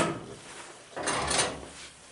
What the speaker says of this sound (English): So we're going to close this door.